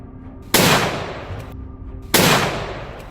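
Two loud, sharp gunshots ring out about a second and a half apart during a wild boar hunt in open grassland, each blast trailing off in a long, fading echo over a low background rumble.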